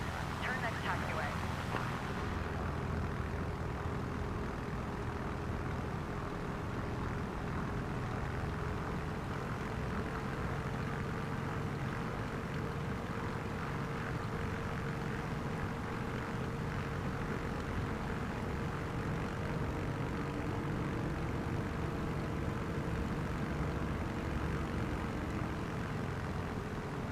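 Beechcraft propeller plane engine in Microsoft Flight Simulator 2024, a steady droning hum with a faint tonal whine, held throughout at moderate level, while a voice speaks over it at times.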